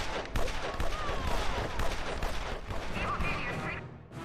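Rapid, dense gunfire from Eli Barracuda in Evil Genius 2, a continuous stream of close, sharp shots with crashing impacts, ending in a sudden cutoff.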